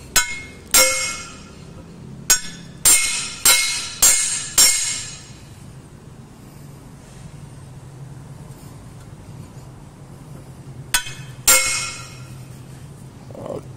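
A hammer drives a nail into a wooden hoe handle with sharp, close strikes. Six come in a steady run, a pause follows, then two more, each ringing briefly before fading.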